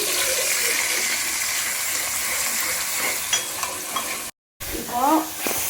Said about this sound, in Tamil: இப்போ எண்ணெய் வந்து காயுது, கடலை எண்ணெய் ஊற்றிருக்கேன். கருவேப்பிலை தழை போடுறேன். மசாலா போடுறேன்.